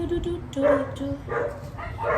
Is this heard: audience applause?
no